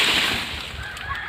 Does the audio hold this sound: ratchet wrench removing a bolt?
no